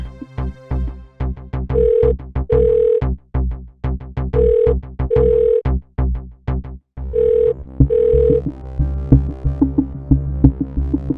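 A phone rings and rings with no answer, its paired ring tones repeating steadily over a pulsing dramatic backing beat.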